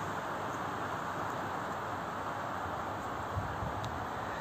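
Strong wind on a mountain buffets a camera microphone in a constant low roar and rumble with a faint rustle, steady throughout with no talking.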